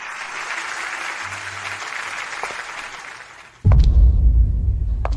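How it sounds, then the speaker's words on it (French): Warm applause for a birthday celebrant plays as steady, fairly distant clapping, then cuts abruptly into a louder, closer burst of rumbling noise for the last second and a half. "maintenant, applaudissons chaleureusement pour accueillir la star d'anniversaire la plus importante d'aujourd'hui"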